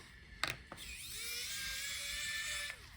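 Screws being unscrewed from the heatsink of a Dell Precision 5770 laptop with a small electric screwdriver, a couple of sharp clicks and then a steady whirring whine that slides up in pitch, close and quiet.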